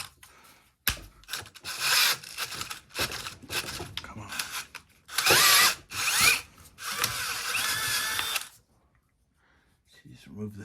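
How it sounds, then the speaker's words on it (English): A greased drill bit enlarging a hole in a metal engine part during a turbo Mini swap: short bursts of grinding and rasping, some starting and stopping abruptly, a longer steady stretch near the end, then quiet. "So I'm using the old grease on a drill bit to drill this out a little bit bigger"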